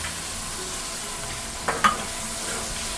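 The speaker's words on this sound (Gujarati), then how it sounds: "હાલો હવે આમાં નાખી દો, ચટણી નાખી દો, એટલે એ આમાં ભેગી સતળાઈ જાય." Chopped bitter gourd curry sizzling steadily in a pan as chutney is stirred in, with a couple of brief scraping stirs over a constant frying hiss.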